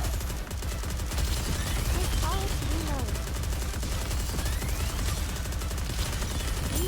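Rapid gunfire rattles on steadily in a NIKKE battle, with machine-gun bursts and scattered shots layered under a constant din while voices talk over it.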